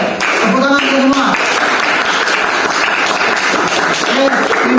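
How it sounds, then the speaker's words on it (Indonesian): A group of people claps together loudly and steadily in a room, the applause mixed with overlapping voices and cheerful chatter. "tepuk tangan semua"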